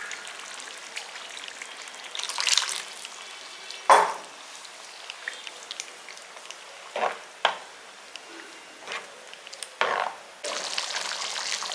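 Thick brinjal tamarind curry bubbling in a pot, soft intermittent plops and bursts over a quiet hiss, with a few louder gloopy pops spaced irregularly.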